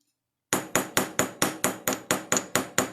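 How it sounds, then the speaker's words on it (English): Silver ring being textured with the ball peen of a chasing hammer: after a half-second of silence, about ten crisp, evenly spaced metal strikes ring out up close, each with a brief bright decay. "I'm going to use the ball peen end and my craft stick just to prevent my fingers getting smashed."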